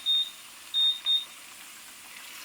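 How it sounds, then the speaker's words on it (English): A kitchen timer beeps while orzo cooks, giving three short, high electronic beeps close by: one, a pause, then two in quick succession, against a quiet room. "That's my timer for the orzo, so I need to check it."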